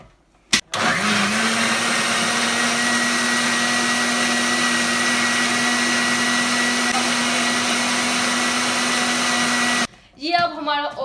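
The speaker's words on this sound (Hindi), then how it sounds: "अब इसे हम अच्छे से ब्लेंड कर देंगे।" An electric blender whirs steadily while blending an Oreo milkshake with milk, loud and continuous for about nine seconds after a quick start-up, then stops as a voice begins talking.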